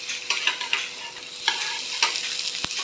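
Ragi dosa frying in a hot pan as it is flipped: a steady bright sizzle with a few soft scraping and tapping touches, close and fairly quiet, no talk.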